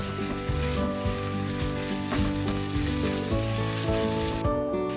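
Vegetables sauté in a pan with crushed chilli and black pepper, sizzling loudly and steadily up close. Scraping spatula stirs and tonal clinks of metal recur throughout, with no talking.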